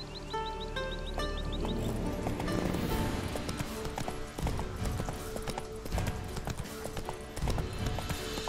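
Hooves of Roach, the horse in The Witcher 3, clop in a quick, regular rhythm, fairly close and loud, over game music and ambient sounds.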